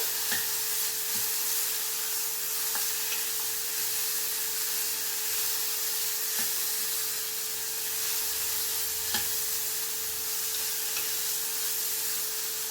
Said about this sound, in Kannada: ಉಪ್ಪನ್ನು ಹಾಕಿ ನಾವು ಇದನ್ನು ಮಿಕ್ಸ್ ಮಾಡ್ಕೋಬೇಕು.